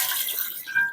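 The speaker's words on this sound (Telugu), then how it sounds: "మంచిగా చెంబడి నీళ్ళు అయితే పోసి పెట్టుకుంటున్నా" Water poured into a pot holding about half a kilo of mutton bones, a steady splashing pour that gives way to a thinner trickling stream near the end, close and alone.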